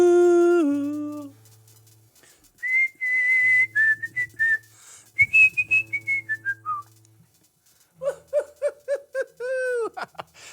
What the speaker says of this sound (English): That was the driest lip whistle I ever had in my entire career here on River Trade Radio.